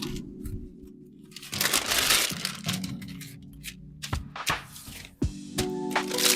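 Pie crust dough is rolled out between sheets of parchment paper with a rolling pin, giving close crinkling and rustling with soft thumps and rolling pressure in uneven bursts.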